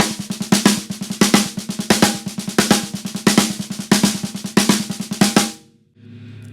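A snare drum runs through repeated six-stroke roll patterns, sharp rim-shot accents jumping out above quiet ghost notes in a pulsing rhythm, then stops and decays into a brief pause.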